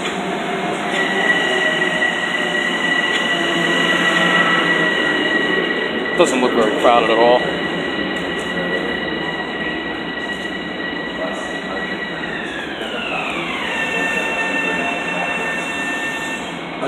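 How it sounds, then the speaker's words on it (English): A Long Island Rail Road train runs past on the opposite track with a loud steady rumble, high squealing tones that slide downward near the end and a brief burst of clatter midway, while someone speaks briefly. "Here's the train in the other direction."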